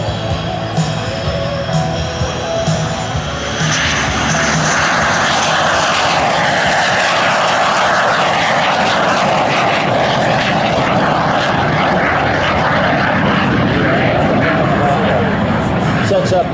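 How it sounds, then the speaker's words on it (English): A loud T-33 jet aircraft engine roars steadily and builds as the plane makes a low pass in landing configuration at an air show, with an announcer talking over the noise. "We'll give you a nice view of the T-33 in the landing configuration"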